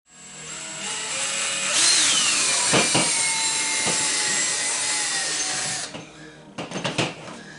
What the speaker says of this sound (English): I'm gonna drill the hole right there on this reflective tape